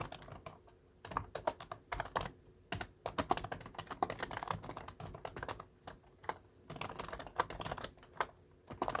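Rapid typing on a computer keyboard while entering data into an Excel 2021 spreadsheet, dense irregular clatter of key presses in bursts with short pauses, close and fairly quiet, no talk.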